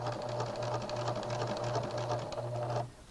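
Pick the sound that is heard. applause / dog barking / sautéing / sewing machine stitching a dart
sewing machine stitching a dart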